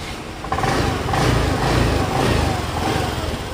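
Honda Activa 6G scooter engine runs steadily at idle after a Castrol engine flush, a continuous close mechanical hum with a slight rise in the first half second, no talking.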